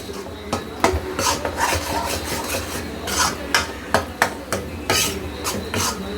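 A spoon scrapes and stirs ingredients as they roast in a pan until brown, giving repeated rasping strokes and clinks in an uneven rhythm, close and fairly loud.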